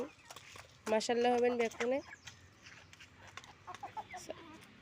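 Backyard laying hens cluck and squawk loudly for about a second, then settle into softer scattered clucks, with a person speaking over the birds.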